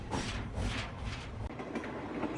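Train pulling out of Santragachi station, a steady rumbling roar of wheels and carriages with faint rattling, continuous and moderately close.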